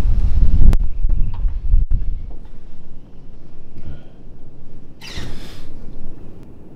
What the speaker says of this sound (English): But this wind is getting a little crazy.